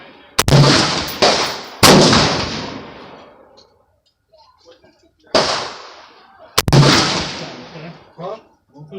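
Gunshots at an outdoor shooting range, loud sharp blasts in pairs with long echoing tails and quiet pauses between, while people talk faintly in the background.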